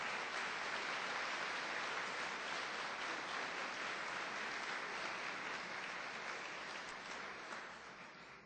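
A large church congregation claps steadily in sustained, dense applause during a worship service, carrying on evenly and fading slightly toward the end.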